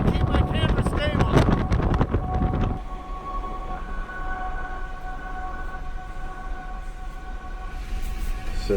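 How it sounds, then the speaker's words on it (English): Strong Antarctic wind buffeting a microphone, roaring gusts strongest at the start then settling into a steady whooshing rush, with a faint tonal whine under it; a voice talks briefly early on. "But it's so windy, I can stabilize my camera off the wind."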